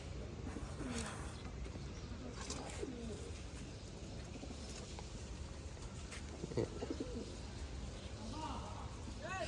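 Soft, low cooing comes from sick pigeons kept indoors, with several short rising-and-falling coos scattered through a quiet, faint background of room hiss.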